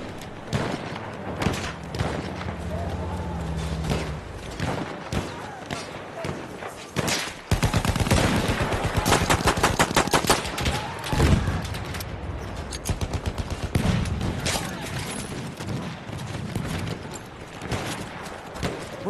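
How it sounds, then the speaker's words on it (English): Rapid bursts of submachine gun fire in the video game Battlefield 1, dense rattling volleys mixed with thuds and other battle noise, loudest in a sustained stretch midway. "Feindliche SMG da drüben."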